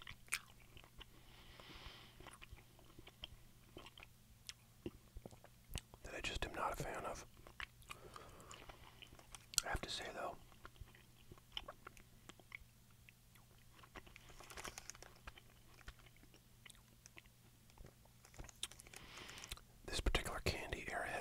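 Close, soft chewing of Airheads watermelon taffy candy, sticky wet mastication with occasional crinkles, interleaved with quiet whispered talk.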